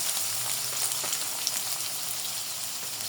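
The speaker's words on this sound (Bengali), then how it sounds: "এখন পেঁয়াজটা আমি একটু ভেজে নেব" Onion frying in hot mustard oil, a steady bright close sizzle that crackles evenly throughout without any talk.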